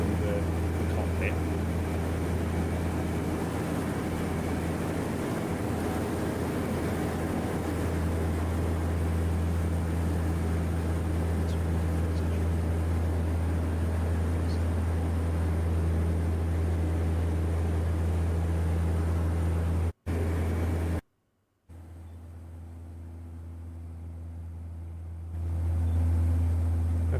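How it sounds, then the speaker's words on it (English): Steady, loud drone of a Twin Otter aircraft's engines and propellers heard from inside the cabin during a scenic flight, continuous throughout with a brief dropout near the end. "This is inside the Twin Otter when we were doing the scenic flight"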